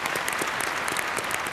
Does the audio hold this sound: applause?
yes